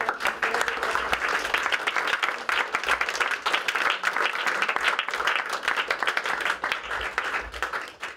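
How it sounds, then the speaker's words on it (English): A large crowd applauds steadily and loudly, dense clapping sustained throughout without pause, with faint voices mixed in. "we should have a huge round of applause for Jim."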